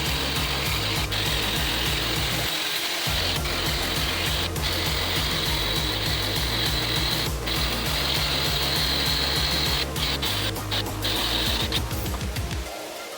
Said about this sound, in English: And now we remove most of the rust in order to place the new brake caliper.